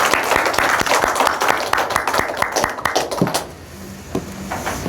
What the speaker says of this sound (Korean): 하나님께 영광의 박수 올려드리십시다.